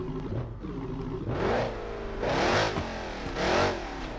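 A throaty supercharged muscle-car engine in the video game BeamNG.drive revs up three times in rising bursts, each with a whining edge, loud and close over a rumbling idle.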